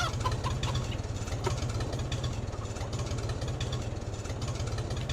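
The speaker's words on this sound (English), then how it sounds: "I just like the sound of an old tractor." An old tractor engine idles steadily up close, with a rapid, even putt-putt rhythm and no talking.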